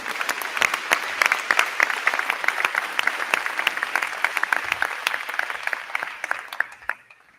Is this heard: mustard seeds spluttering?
no